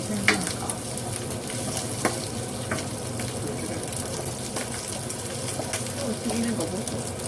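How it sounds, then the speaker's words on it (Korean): Food frying in oil in a home kitchen, a steady sizzling crackle with occasional sharper pops and clinks, close and continuous throughout. "튀기는 거 보고"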